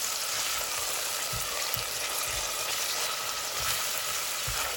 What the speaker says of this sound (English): We're using one wiri pepper, and we're going to stir this.